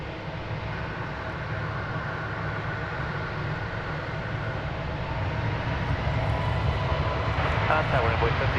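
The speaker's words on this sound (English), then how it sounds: "So we've got a landing and a takeoff simultaneously there." Airliners land and take off at DFW Airport, making a continuous distant jet rumble and whine that swells slightly, under faint voices.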